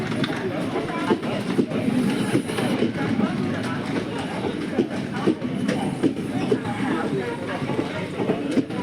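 A train rolls through a busy railway station in the Konkan region, producing a constant rumbling clatter with scattered clicks and bumps while people talk in the background.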